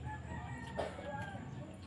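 A rooster crows nearby over soft clucking from chickens, a short farmyard burst with steady background hum.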